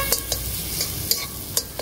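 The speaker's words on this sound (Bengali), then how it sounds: "মশলাটা ভালো করে একটু নাড়িয়ে নিচ্ছি" A spoon scrapes and clicks in a short, fairly regular rhythm as spices are stirred in a sizzling frying pan for a mixed vegetable dish, heard close over a steady fry hiss.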